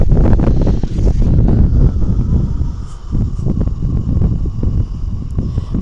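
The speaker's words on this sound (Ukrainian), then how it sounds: "Знову вітрюган." Strong, gusty wind buffets the microphone outdoors near a house and flower beds, a loud, continuous roar that surges and eases in waves with no voices.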